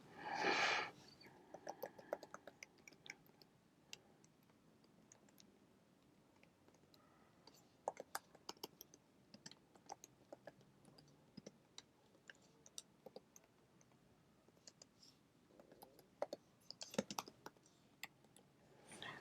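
Code is typed on a Mac computer keyboard, with soft, irregular clicking keystrokes coming in quick clusters and short pauses, quiet and close throughout.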